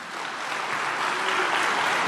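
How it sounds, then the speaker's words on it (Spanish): Congregation applauding in a church, a dense, steady wash of clapping that holds at an even level and swells slightly toward the end. "Dale aplauso al Señor"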